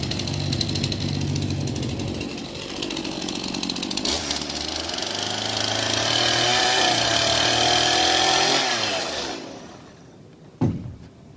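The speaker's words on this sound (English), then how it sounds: "So I'll put a little center line in there and put a chainsaw down." A chainsaw cuts a lengthwise spline groove along a round log for a butt-and-pass corner, the engine running loud and steady and its pitch shifting under load before it is throttled down and stops.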